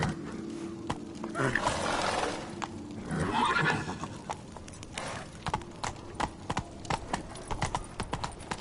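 Roach, a horse in a video game, neighs and whinnies twice in the open, followed by brisk hoof clip-clops that settle into a rhythmic trot, moderately close with faint background ambience.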